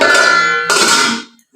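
A metal lid for a kadai wok being handled, giving two bright ringing clangs about half a second apart, each one sustaining a metallic shimmer that slowly fades, close and loud with no talk over them.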